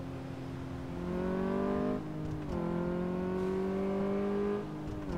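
A car accelerates in Car Mechanic Simulator 2014, its synthetic engine tone climbing steadily in pitch through two gear shifts with a brief dip between them, clean and moderately loud, with no voices.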